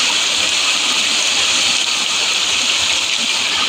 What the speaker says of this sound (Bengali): এটা কি কত বৃষ্টি হচ্ছে